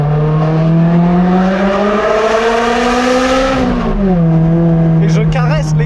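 A Ferrari 360 Challenge Stradale engine revs loud and close under throttle, its tone rising steadily before dropping back, with someone speaking briefly over it near the end.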